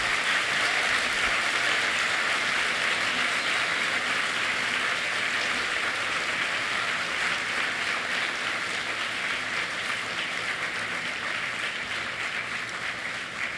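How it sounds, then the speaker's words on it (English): A large crowd applauding steadily, a dense, even wash of clapping that carries on without pause and eases only slightly toward the end. "you give a big round of applause to all the people who have been there for you"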